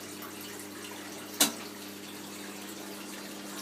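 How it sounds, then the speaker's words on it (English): Washing machine discharge water draining through household plumbing: a steady low rushing flow with a faint hum, broken once by a single short knock or bop from the toilet. "There's the discharge water."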